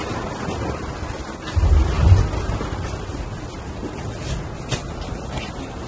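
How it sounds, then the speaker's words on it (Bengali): Heavy rain pours down steadily at a cattle farm in Habiganj, with low rumbles swelling briefly near the middle like distant thunder, and no voices over the wash of falling water. "সারাদিন ধরে বৃষ্টি হচ্ছে ভাই"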